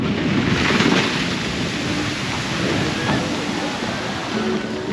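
Water splashing and rushing from the Pulsar ride at Walibi Belgium, a loud continuous spray of surf-like noise at close range, with faint voices mixed in.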